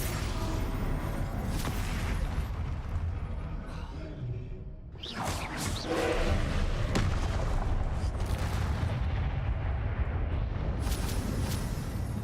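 Fire spells Confringo and Incendio blasting in the video game Hogwarts Legacy, repeated whooshing bursts and booming explosions over a continuous loud battle din.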